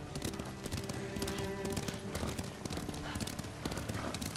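Horse hooves clip-clopping in the samurai game Ghost of Tsushima, a steady quick rhythm of close, crisp hoofbeats over a soft ambient bed, continuing the whole time.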